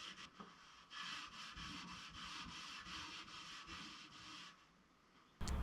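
Steel wool soaked in naphtha scrubs old finish off a restored mid-century modern wood piece, giving steady rhythmic rasping strokes at close range, moderately loud and continuous for several seconds, with no talking.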